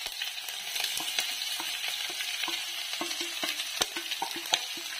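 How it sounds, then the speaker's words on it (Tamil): Chopped onions fry with popped mustard seeds and chana dal for a brinjal thokku, giving a soft steady sizzle punctuated by sharp spoon scrapes and taps against the pan, with no voices. "இந்த டைம்ல நம்ம அரிஞ்சு வச்சிருக்கிற வெங்காயத்தை சேர்த்திக்கலாம்."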